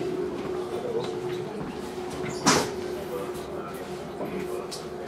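A heavy passenger carriage door on a Budapest–Zagreb train in Hungary gives a single short clunk midway, over a steady rumble of the moving train and faint background murmur.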